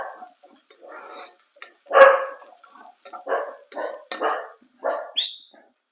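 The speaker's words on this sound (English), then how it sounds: "the easiest way to stop him from barking is to offer him food" A scared dog named Goldie barks in a run of short, sharp woofs, several spaced bursts close to the microphone and fairly loud against an otherwise quiet room.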